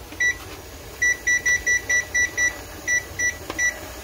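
A digital kitchen timer is set during pressure canning of carrots, giving a run of short, high, evenly clipped beeps at close range over a steady hiss of venting steam.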